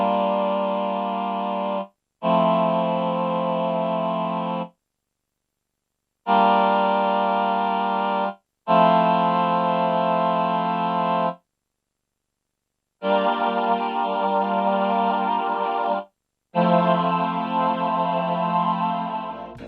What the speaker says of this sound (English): The human voice section features a synthesized choir sound featuring lower pitched male voices and higher pitched female voices.